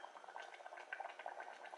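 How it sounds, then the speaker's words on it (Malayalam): Coconut milk potato curry simmering in a pot, a soft continuous bubbling with small pops and gurgles, close and fairly quiet, with no talking. "ഇതിപ്പോൾ തിളയ്ക്കുന്നുണ്ട്"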